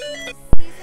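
A telephone rings once in a single short, loud burst, cutting into an otherwise quiet room.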